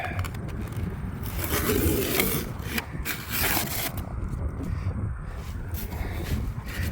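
Tape is pulled and handled while an E-flite UMX Me-262 model airplane is taped up, with close scraping, rubbing and crinkling in uneven bursts and no speech.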